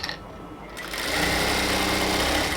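Sewing machine stitching a dress sleeve of luxury cotton toward the armhole mark, starting after a brief quiet moment and then running as a loud, steady, continuous whir.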